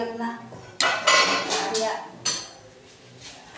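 Plates and dishes clatter and clink in a home kitchen in several sharp bursts, with people talking nearby.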